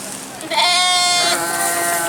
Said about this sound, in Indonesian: Nah, ini jenis kambing.